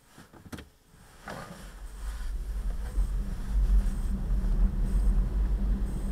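A BMW i3 electric car pulling away, a low rumble of tyres and road noise swelling steadily as it gathers speed, with a couple of clicks at the start.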